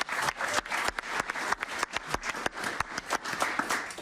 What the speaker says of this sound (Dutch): Een applaus voor Robin Veldman.